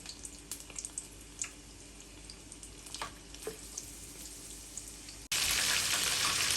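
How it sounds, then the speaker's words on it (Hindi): Batter-coated chicken pakoras frying in hot oil, a faint steady sizzle with small pops and crackles throughout, then a sudden louder rush of bubbling hiss near the end. "बस दोनों तरफ से हमने इनको गोल्डन फ्राई कर लेना है।"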